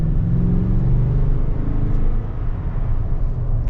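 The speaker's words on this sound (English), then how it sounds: "Now we're gonna get our acceleration here with the Tundra Limited" A 2021 Toyota Tundra Limited TRD pickup accelerates, its engine giving a steady deep droning rumble heard from inside the cab, fairly loud and continuous without talk.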